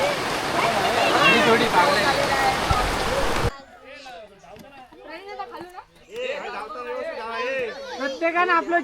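Heavy rain pours onto a cricket ground during a semifinal match, a loud, dense wash filling the first few seconds before it cuts away to people chattering and calling out close by.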